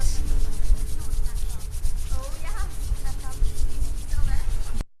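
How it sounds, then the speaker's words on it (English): Two hands rubbing briskly together to build warmth during a stress-relief relaxation session, a close, steady, loud dry friction that runs continuously and stops abruptly at the end, with faint voice tones mixed in. "we're going to put our hands together, rubbing, making some heat"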